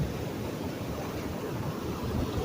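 Surf and wind at Cocoa Beach, Florida form a continuous close wash of breaking waves mixed with gusty wind rumble on the microphone, steady and fairly loud throughout.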